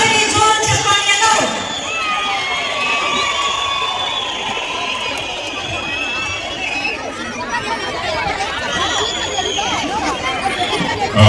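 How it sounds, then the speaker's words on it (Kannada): Crowd at a stadium construction inauguration in Karnataka welcoming Deputy CM D K Shivakumar, a steady roar of cheering, chatter and shouting with scattered applause, loud and sustained throughout. "ಬರಲಿ ಜೋರು ಚಪ್ಪಾಳೆಯನ್ನು"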